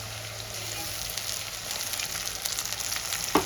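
Paste of coriander leaves, green chili and garlic sizzling in a pan with browned onions, a steady close frying hiss with light stirring scrapes and a small clink near the end.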